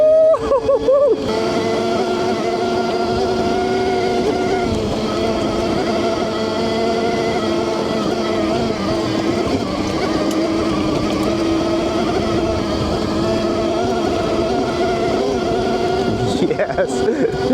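A cheap 72-volt electric dirt bike rides off-road, its motor giving a sustained high-pitched whine that holds steady for many seconds, loud and close, with wind and riding noise underneath.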